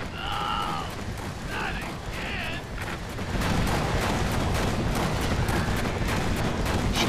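Rapid bursts of gunfire in the game Brütal Legend crackle and intensify into dense continuous shooting, with a few tonal game sounds early on.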